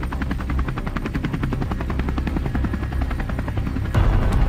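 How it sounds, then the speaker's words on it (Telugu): A helicopter flying overhead in a tense military mission scene, its rotor beating loud, steady and continuous throughout, with a heavier low rumble building near the end. "ఆ హెలికాప్టర్ సౌండ్ ఏంట్రా?"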